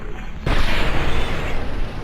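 A loud burst of gunfire in Mass Effect 2 on hardcore difficulty, opening with a sharp, dense onset about half a second in and sustaining a heavy, booming wash to the end.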